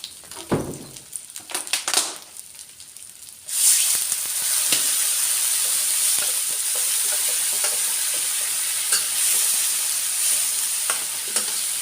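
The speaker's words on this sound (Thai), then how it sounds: "ผัดพริกแกงไปก่อนนะคะทุกคน" Chicken stir-fried with red curry paste in a hot pan: a few bumps and scrapes give way to a loud, continuous sizzle with stirring clatter, close up and without talking.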